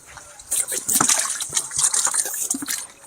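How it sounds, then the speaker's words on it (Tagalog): A live fish from a provincial market splashes as it is dropped into water, a burst of irregular sloshing and splattering that starts after a short quiet and continues in choppy bursts. "Ilagay natin sa tubig, di ba?"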